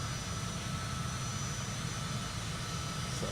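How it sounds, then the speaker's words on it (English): Steady jet airliner engine roar in Microsoft Flight Simulator during the climb-out after takeoff, a constant broadband rumble with no distinct gear-retraction clunk standing out. "we got positive climb. We'll say goodbye to the runway and say goodbye to our landing gear."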